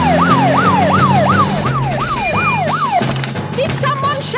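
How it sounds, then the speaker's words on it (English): A wailing siren sweeps up and down in steady repeated cycles, loud and close, over a low engine rumble, then breaks into shorter chirps near the end. "To the police car!"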